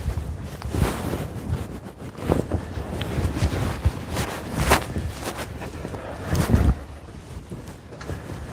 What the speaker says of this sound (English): The wind has picked up a little bit as well.